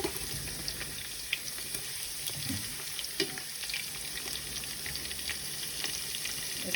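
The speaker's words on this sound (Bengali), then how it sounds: "এগুলো দিয়ে একটু ভেজে নেব।" Onion, garlic and whole spices such as cardamom and cinnamon fry in hot oil, a soft continuous sizzle dotted with faint clicks and light utensil taps.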